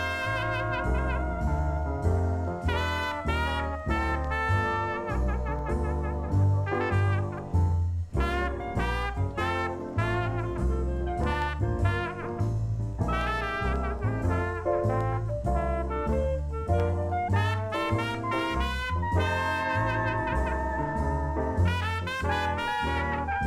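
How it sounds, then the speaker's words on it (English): Theme tune for the cancelled Doctor Who spin-off The Lady plays as continuous music with dense melodic and bass lines, steady and moderately loud with no voices. "the theme tune would sound something like this"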